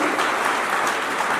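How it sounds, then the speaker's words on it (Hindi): An audience at a college fresher party where prizes are being announced breaks into dense, steady applause that fills the short moment at full volume. "पीछे तालियां तो होनी चाहिए आपके लिए।"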